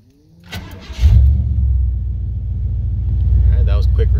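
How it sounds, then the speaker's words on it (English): A car that cranks but struggles to start is cranked, the starter whirring briefly before the engine catches and settles into a loud, steady close-up idle rumble. "let's shut it off and let's do another crank."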